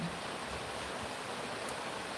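Steady rain falling outdoors, an even hiss of drops with no breaks and no voices, moderately quiet.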